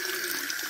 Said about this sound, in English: Turn the water on warm,